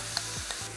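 Bracken fern sizzles as it is stir-fried in perilla oil, a brief burst of close, steady hiss with a couple of light stirring clicks and no voices.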